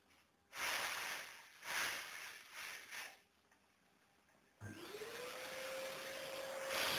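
An SL15P12P vacuum cleaner runs in a few rough bursts, then its motor spins up with a rising whine and settles into a steady, fairly quiet hum.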